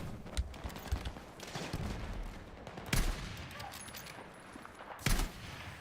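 Gunfire in the Battlefield 6 video game: scattered distant shots and bursts, with a few sharp, louder reports standing out against a busy battlefield background.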